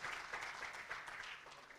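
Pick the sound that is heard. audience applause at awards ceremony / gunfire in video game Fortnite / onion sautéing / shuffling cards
audience applause at awards ceremony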